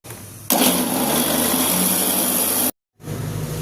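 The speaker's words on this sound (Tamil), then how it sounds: "மோர் குழம்புக்கு தேவையான தேங்காய் அதில் கொஞ்சம் ஜீரகம் ஒரு பச்சை மிளகா போட்டு அரைச்சிடலாம்" A mixer grinder whirs loudly as it grinds coconut, cumin and a green chili for buttermilk curry, running in one steady burst, cutting off abruptly, then starting up again after a brief pause.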